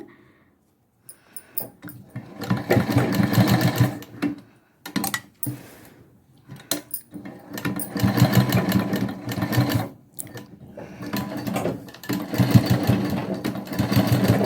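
A sewing machine runs in bursts, stitching invisible piping along a curved neckline, with short pauses between runs of close, steady, rapid stitching.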